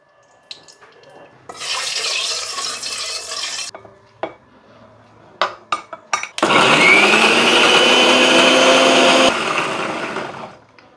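Mixer grinder whirring as it grinds a spice paste for a shahi Gobindo katla fish curry, running in two loud bursts, a short one and then a longer one, with a few clicks and knocks in between.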